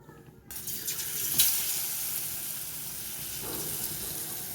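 Stuffed pointed gourd coated in gram flour batter drops into hot oil and starts frying with a steady, soft hiss and light crackle that carries on, close and even, without talk.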